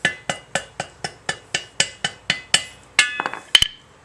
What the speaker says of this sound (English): if you need to tap it with a hammer or something just to get it to kind of cooperate a little.